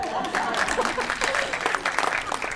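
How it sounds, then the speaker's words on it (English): Audience clapping at a parent and community engagement meeting, a lively round of applause from a moderate crowd in a room, close and fairly loud, with some voices mixed in. "I do need a round of applause."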